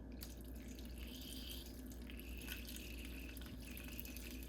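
Beef broth poured from a 32-ounce carton into a pot on low heat, a steady close liquid gurgle and splash running continuously without talk.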